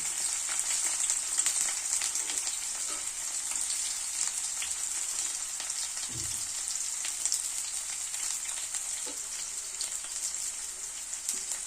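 Chopped onion and green chili frying in oil for a phool makhana curry, giving a steady, dense sizzle that crackles continuously throughout.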